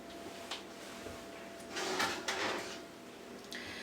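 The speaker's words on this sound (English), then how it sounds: "let's get them out of the oven and see what they look like inside" A kitchen oven door is opened to take out baked pork chop barbecue pouches. It makes a brief, fairly quiet clatter with a sliding scrape, set against a low room hum.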